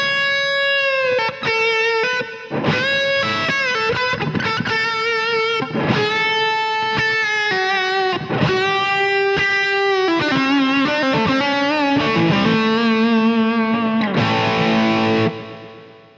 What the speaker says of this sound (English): Everything that you were that you heard on that solo was coming from the effects that are part of the software for Captor X